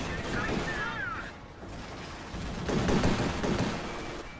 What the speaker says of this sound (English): And then piercing shot.